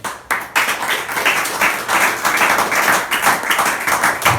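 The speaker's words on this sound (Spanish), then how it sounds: "Si lo va a aplaudir, aplaudan." Church congregation claps together in close, loud bursts that pulse in a loose rhythm, the clapping filling the room with no one speaking over it.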